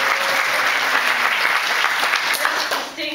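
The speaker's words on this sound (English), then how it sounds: "But I think that deserves a cheer." An audience at a university fisheries school event breaks into loud, sustained applause with scattered cheering, a dense wash of clapping that holds steady before starting to fade.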